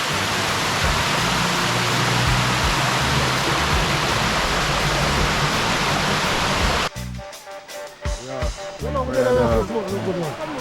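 A natural stream or waterfall pours at an outdoor riverside cookout, a loud, steady rushing roar for about seven seconds before it cuts to quieter ambience with voices and clatter.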